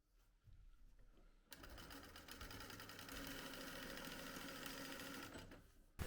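A sewing machine stitches the first pass of a French seam, 7 mm from the edge, running steadily for about four and a half seconds after a brief, nearly silent start; the motor hum stays fairly faint and even.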